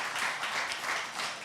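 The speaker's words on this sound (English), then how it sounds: "this round of applause is for you to let you know how thankful we are that you are here with us" Church congregation applauding, a steady wash of many hands clapping at moderate distance, continuous and even with no voices standing out.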